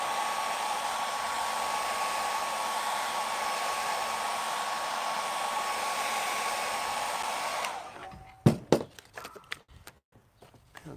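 A heat gun blows steadily and loudly with an even whooshing hiss and faint whine while warming vinyl wrap on a Nissan Y62 centre console, then shuts off near the end, leaving a few sharp handling knocks and taps.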